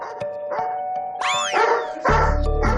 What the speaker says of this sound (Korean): 코앞까지 다가와 짖기 시작하는데요